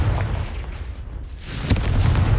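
A Confringo explosion spell in Hogwarts Legacy erupts as a loud booming blast with a sharp crack, following a quieter rumbling stretch, and is heard close with no speech.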